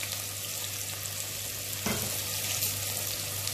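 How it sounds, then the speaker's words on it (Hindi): Sliced onions drop into hot oil and fry with a steady broadband sizzle, swelling louder midway as they hit the pan, close and continuous with no voices. "ऑयल डालने के बाद जो है जब ऑयल गर्म हो जाए तब उसके अंदर जो है मुझे प्याज डालना है।"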